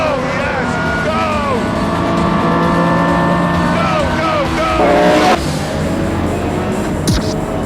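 A 938 hp 2009 Pagani Zonda R races in Gran Turismo 7 on the Nürburgring, its loud engine howling through rising gear sweeps and shifts, with brief tire squeal and someone talking over it.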